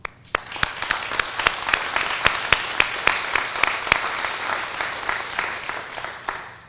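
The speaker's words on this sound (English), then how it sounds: "we thank and applaud our community." An audience at a Habitat for Humanity ReStore grand opening claps, a moderate crowd of hands with several sharp, close individual claps standing out, sustained for several seconds before easing off.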